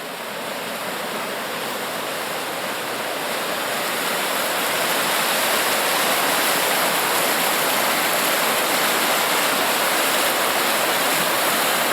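Loud, steady roar of floodwater rushing through open lock gates at Lock 25 during April floods, continuous and close, with no voices.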